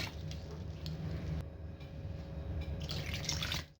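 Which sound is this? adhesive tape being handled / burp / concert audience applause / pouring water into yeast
pouring water into yeast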